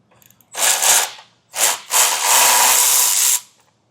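A ratchet with a 13mm wobble socket loosens a tight nut on a 2016 Jeep base plate bracket. Three loud bursts of rapid clicking, the last one long and steady, close up and without speech.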